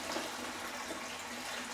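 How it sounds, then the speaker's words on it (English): Water pours steadily into a yeast slurry, a soft continuous gushing splash, faint and alone. "just pour some water into here"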